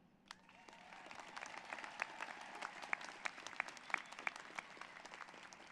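A commencement audience applauds for faculty and staff, with a large crowd's clapping building from a faint start into a steady, fairly distant wash with a few sharp claps standing out.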